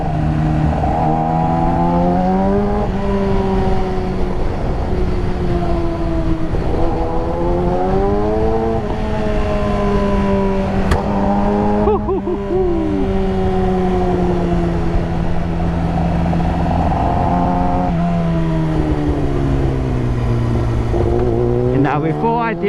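Yamaha R6 motorcycle ridden slowly through tight bends, its engine note rising and falling steadily with gear changes, loud and continuous throughout, with no talking.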